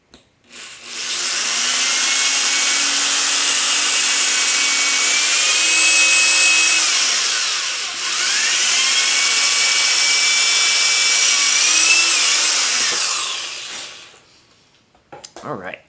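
A power drill bores a hole while building a formicarium for harvester ants, running in one long near, steady whine whose pitch sags under load, pauses briefly midway, then rises again before stopping.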